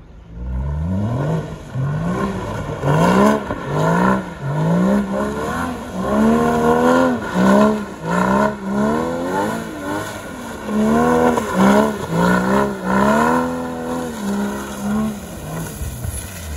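A Porsche sports car engine revving up and down repeatedly on a wet parking lot, rising and falling in pitch, close and loud, with a faint whine of tires sliding.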